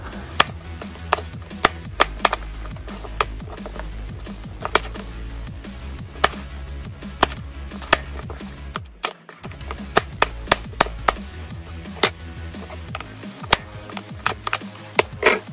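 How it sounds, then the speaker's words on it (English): A knife slices capsicum pieces on a board in a long run of crisp, evenly spaced chopping taps, close and fairly loud, with a short pause midway. "And we are just going to slice them."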